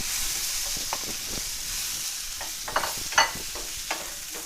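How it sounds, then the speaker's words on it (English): About 4 ounces of cremini mushrooms sauté in a pan with sage and shallots, giving a steady close sizzle broken by several sharp stirring scrapes and clatters. "we're going to let that saute for about 5 minutes until it gets brown"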